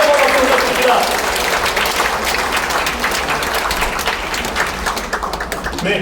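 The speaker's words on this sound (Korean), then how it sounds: "여러분 다른 분께 다시 한번 박수 부탁드립니다." Audience applause at a book launch ceremony in a museum hall, dense sustained clapping from a large crowd that stays loud and fairly even before thinning slightly at the end.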